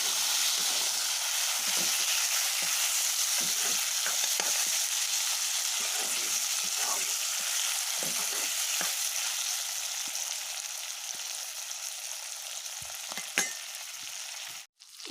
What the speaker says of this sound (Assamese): একবাৰ খুৰি চাচোন লৰাই দিম।